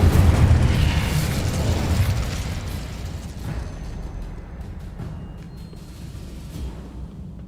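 Spell blasts from Incendio and Confringo in Hogwarts Legacy burst out as booming fiery explosions, loudest at first and then fading into a rumbling, crackling tail with a few scattered pops.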